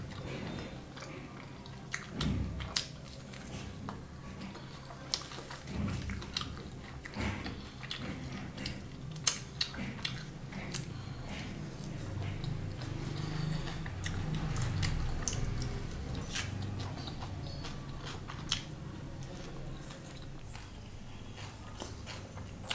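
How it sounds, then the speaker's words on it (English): Close-up chewing and biting of a cheesy butter paneer pizza, soft squishy mouth sounds with irregular bites and crunches repeating steadily, no talking. "now I'm going to have this cheesy butter paneer pizza"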